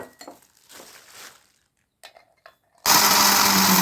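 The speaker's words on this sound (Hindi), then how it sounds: "इसको भी मैं मिक्सी के जार में डाल लेती हूँ और बारीक पीस लेती हूँ" A few clinks and rustles, then a kitchen mixer grinder starts abruptly with a loud, steady whirring roar as it grinds cashews into powder.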